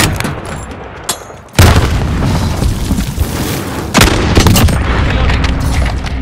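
Video game battle with a sudden heavy grenade boom followed by sustained rapid gunfire and a second blast a few seconds later, loud and dense throughout with no talking.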